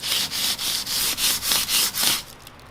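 A Kawasaki KZ400 motorcycle fork tube is hand-sanded with 150-grit paper in seven or eight close, even back-and-forth strokes, a steady rhythmic hiss that stops at the end.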